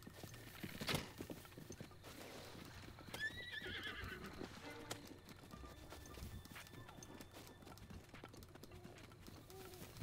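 Epona, a horse in the video game The Legend of Zelda: Breath of the Wild, clip-clops with steady hoofbeats and gives a clear neigh, with faint bird calls in the background.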